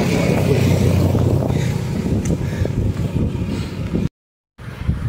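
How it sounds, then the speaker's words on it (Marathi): Strong wind roars across the microphone during a long road-bike ride from Mumbai to Lonavala: a loud, steady low rumble with gusting texture that cuts out briefly near the end before resuming. "कारण हवा पण खूप आहे"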